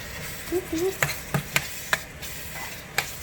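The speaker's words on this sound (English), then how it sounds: "We are going to mix it all together." Ham being stirred into Puerto Rican rice in a pan, with several sharp spoon scrapes and knocks against the pan over a soft sizzle, and a brief voice murmur early on.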